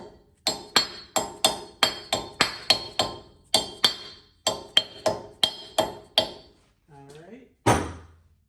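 A small dead blow hammer taps a dust cap on a Lexus GX470 wheel hub, about a dozen crisp, evenly spaced knocks with a slight metallic clink, close and clear, followed by a brief rustle and a last thud.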